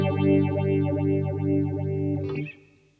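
Behringer Bi-Phase dual stereo phaser pedal sweeping a sustained guitar chord with a steady, regular whooshing phase modulation, cut off abruptly near the end into a brief decaying tail.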